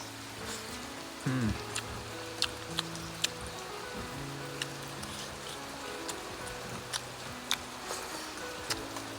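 Steady rain falls outdoors in a continuous hiss with scattered sharper drips, and a few faint low sounds sit under it.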